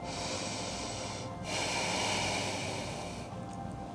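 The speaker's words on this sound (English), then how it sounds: "breathing in and out" Breathing in and out during a yoga flow, close and audible as long airy inhales and exhales over a soft steady background hiss, with no talking.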